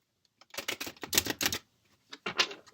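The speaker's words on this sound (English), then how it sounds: "Let's start shuffling again" Quick riffling and clattering of tarot cards being shuffled, two bursts of crisp papery flicks close up, separated by a brief pause.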